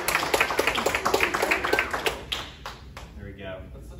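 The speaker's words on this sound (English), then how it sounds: "Let's give Greg a round of applause." Applause from a church audience at an adult Bible study class, with a run of sharp claps close by that thins out and fades after about three seconds.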